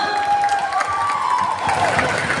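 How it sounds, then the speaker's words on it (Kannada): Audience applause for a dance team at a Kannada film song launch event at the Forum mall in Mangaluru, a steady wash of clapping with faint tonal music lines running through it. "ಅವರಿಗೆ ಒಂದು ದೊಡ್ಡ ಚಪ್ಪಾಳೆ ಬರಬೇಕು ಕಮಾನ್"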